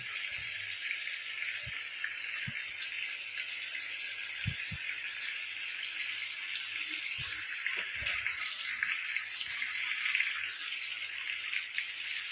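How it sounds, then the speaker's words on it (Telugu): Steady, rushing water flows continuously as about a litre is poured into tamarind juice in a vessel, with a few soft knocks and clinks near the start and middle. "దాంట్లో మనకి ఒక లీటర్ నీళ్ళు పోసుకోవాలి"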